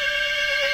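A young local horse, a yearling colt, lets out a short, loud, close whinny, a single sustained tonal call that dips in pitch at the end.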